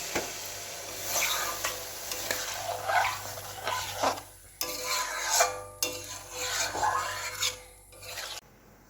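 Water poured into a pan of sautéed cauliflower and potato curry, giving a steady hissing sizzle and bubbling with scraping stirs throughout, close and fairly loud, with a sudden stop at the end.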